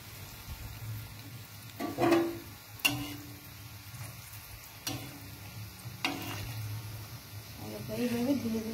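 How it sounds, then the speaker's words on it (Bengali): Mughlai paratha frying in oil on a low gas flame, a soft steady sizzle with occasional taps and scrapes of a utensil, while someone talks over it. "দেখো এবার তোমাদেরকে আমি ভেজে দেখাচ্ছি। গ্যাসটাকে পুরো ধীরে করে দেবে"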